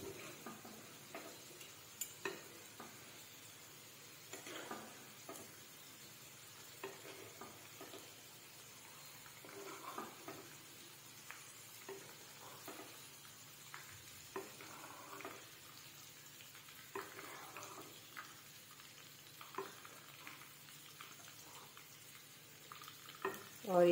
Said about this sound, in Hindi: थोड़ा और फ्राई करती हूँ, ये अभी नहीं हुआ है, हल्का कच्चा ही लग रहा है।